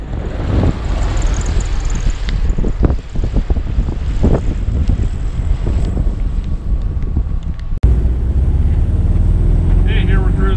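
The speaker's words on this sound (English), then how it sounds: "here we're cruising out the little bug out in the country here" A 1965 Volkswagen Beetle convertible cruises along a country road, with heavy wind buffeting the open car over a steady engine drone. A sharp thump near the end is followed by calmer, steady road noise.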